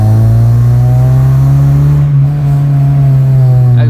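A Honda 2000 hatchback's exhaust drones steadily with a strong low engine hum and sustained harmonics, heard from inside the car as it drives, with a brief dip near the end.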